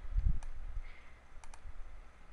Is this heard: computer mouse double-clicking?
yes